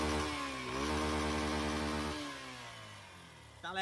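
A Fezar motorcycle with a 300 gram engine runs alone and close, its rough buzzing idle steady at first, then revving down and fading into a quieter putter before a sharp burst at the end.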